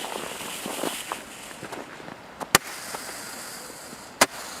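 Two sharp pops from a Lidl roman candle firework firing, spaced a couple of seconds apart, over a crackling outdoor background with faint rustling.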